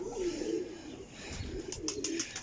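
Teddy pigeons coo in a soft, repeated low murmur, a few close rolling calls with faint chirps and background rustle, and no talking.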